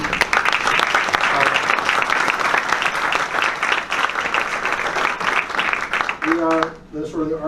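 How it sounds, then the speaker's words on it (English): A conference audience gives a big round of applause for Tawfiq and the team: sustained, dense clapping, loud throughout, fading near the end as a voice begins to speak. "So a huge round of applause for Tawfiq and the rest of the team."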